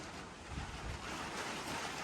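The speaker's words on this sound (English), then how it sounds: "This is 27-mile-an-hour wind gusts." Strong sustained wind of about 27 miles an hour roars steadily and loudly outdoors with low rumbling buffeting against the microphone, a tarp flapping somewhere beneath the continuous rush.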